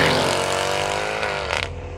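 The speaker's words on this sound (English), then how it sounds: "bask in the noise of one of the greatest engines of all time" A Mercedes-Benz C63 AMG's 6.2-litre V8 engine revving and accelerating up close, a deep rumble that rises in pitch before a brief gear change.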